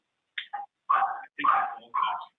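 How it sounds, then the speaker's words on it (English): A dog barks during an indoor council meeting, five short yips and barks in an irregular run, clear and fairly close against an otherwise quiet room. "I don't know whose dog that is."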